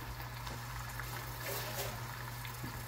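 Water runs steadily from a tap as food is rinsed while making pasta Bolognese, a continuous close wash with a low hum beneath it.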